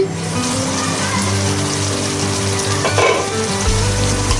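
Beef braises in a pan for a green papaya beef curry, giving a continuous loud sizzle with bubbling and a low rumbling undertone, no voices.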